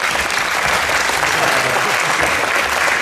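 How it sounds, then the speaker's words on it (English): A team of basketball players gets a round of applause at a defensive coaching clinic, steady dense clapping filling the space with voices mixed in underneath. "Let's give these guys a round of applause quick."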